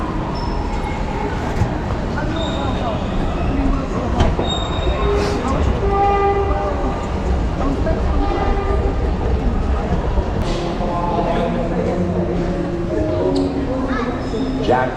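An Elizabeth Line train at an underground station platform gives a continuous loud rumble with faint wheel squeals and tonal hums, and people talk nearby throughout.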